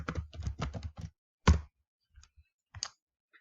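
Keys clatter on a computer keyboard in a quick burst of typing, then a louder clack and a few sparse, scattered taps follow in a quiet room.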